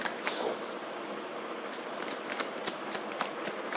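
Tarot cards are shuffled close by in a quick run of crisp riffles and soft papery flicks, with brief snapping bursts that repeat toward the end, and no voice over them.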